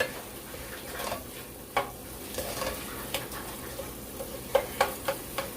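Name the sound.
red beans frying in a pot on the stove burner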